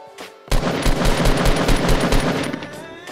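Rapid automatic gunfire from a video game, a dense burst of close, loud shots starting abruptly and rattling on for a few seconds before tapering off.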